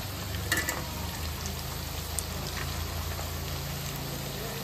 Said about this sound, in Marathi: जे कटलेट आहेत ते पण तळून घेतोय